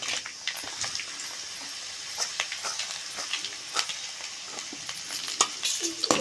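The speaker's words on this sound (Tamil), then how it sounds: "சீரகம் லைட்டாக அது பொரியும் போது காஞ்சி மிளகா" Cumin seeds and dried red chilies frying in hot oil, giving a steady sizzling hiss with scattered sharp pops and crackles and a few light stirring clinks throughout.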